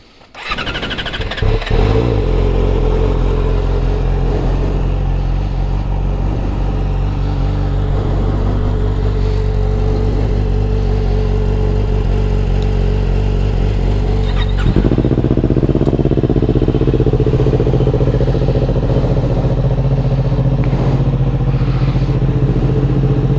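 Yamaha R6 motorcycles crank and fire up, settling into a loud rumbling idle punctuated by sharp revs, with a second engine joining about halfway through and thickening the close, continuous roar; no talking.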